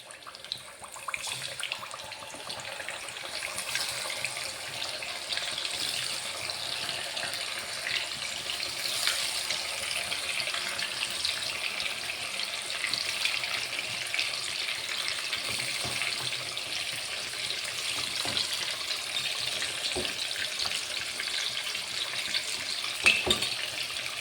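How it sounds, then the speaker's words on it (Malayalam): Food fries in hot oil with a steady, moderately loud hiss and crackle that continues without pause, joined by a few faint clicks; no talking. "എണ്ണ ചൂടായിട്ടുണ്ട്. നമുക്ക് ഓരോന്നോരോന്ന് ആയിട്ട് വറുക്കാം."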